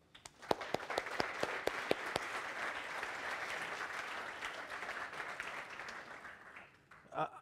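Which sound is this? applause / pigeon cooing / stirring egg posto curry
applause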